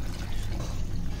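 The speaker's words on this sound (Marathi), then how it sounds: "आणि पाणी घालून ॲड करणार आहोत" Hot water is poured steadily into a pan of clam curry on the stove, a continuous close splashing stream with no talk.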